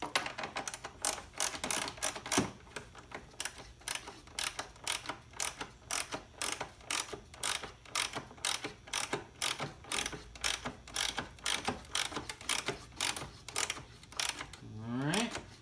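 A ratchet tightening the battery terminal on a 2011 Mazda3 2.5L, rapid repeated clicking strokes in a steady rhythm, close and fairly loud, ending with a brief rising mechanical whir.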